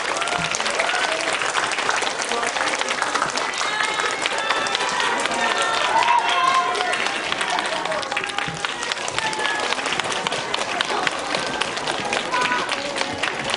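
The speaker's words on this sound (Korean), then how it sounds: "저희 배우분들과 감독님 퇴장하시는데 박수 뜨겁게 부탁드립니다" Warm, sustained applause from a theater audience at a Korean film premiere stage talk as the actors and director leave, steady dense clapping filling the whole stretch with some crowd noise mixed in.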